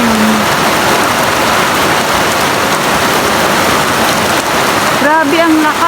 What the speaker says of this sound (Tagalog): Kasi kanina pa tong umaga, tong ulan na to.